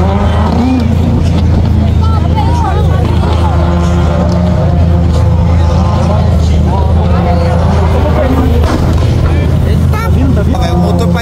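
A car engine at a night drift meet, heard as a loud continuous engine drone with revving, under crowd chatter and people talking nearby.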